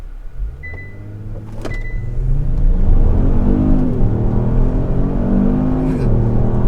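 A Kia Stinger GT fitted with BMS intakes launching from 0 to 60, the engine note rising in a loud, steady climb with a brief dip at a gear change, heard from inside the car.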